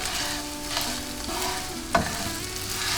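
Scrambled eggs frying in a pan while being stirred, giving a steady soft sizzle with scraping stir strokes and one brief sharp knock near the end, with no talking.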